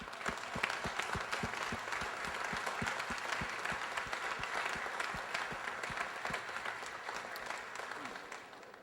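Guests at an annual barbecue event give elected officials a round of applause, a steady crowd clapping heard from a distance with some louder individual claps standing out, lasting several seconds.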